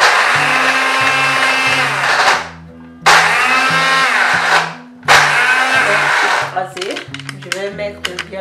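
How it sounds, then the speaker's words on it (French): Kitchen blender crushing ingredients for an organic facial serum, running in three loud whirring bursts separated by brief stops, then ending in sputtering, uneven grinding, close to the listener. "nous allons passer maintenant à notre mixeur. Nous allons poser là. Nous allons bien fermer. Attention. Et nous allons écraser."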